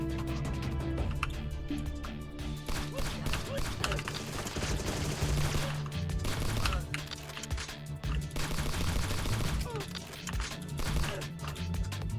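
Gunfire lands headshots in the spy shooter Agent 64: Spies Never Die, with rapid repeated shots and crashes over a steady bed of game music, while a voice talks across much of it.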